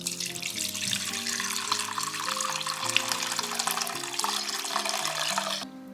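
Chicken bone broth pours and trickles through cheesecloth into a bowl, a steady close splashing stream that fades out near the end.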